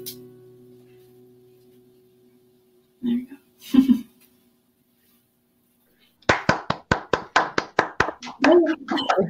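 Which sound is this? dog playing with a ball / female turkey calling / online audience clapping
online audience clapping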